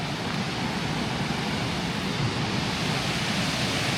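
Roaring waterfall at Little Egypt Waterfalls in Tennessee, a steady, dense wash of rushing water close by, loud and unbroken, with no voices over it.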